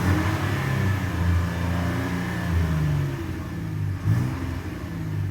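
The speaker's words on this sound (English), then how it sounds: "It does sound like a proper truck engine" A 2022 Nissan Frontier SV pickup truck's engine runs close by with a steady, deep mid-range rumble, swelling and easing slightly in short revs, with no one speaking.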